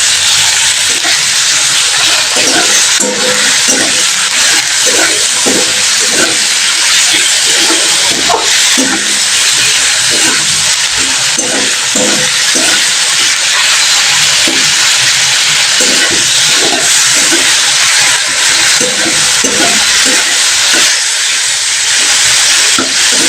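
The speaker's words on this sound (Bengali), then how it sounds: "এবার টমেটোটাকে আমি একটু ভালো করে ভেজে নেব" Tomato frying in a pan with a little turmeric and salt, a loud, constant hissing sizzle throughout, with repeated soft scraping and stirring sounds underneath.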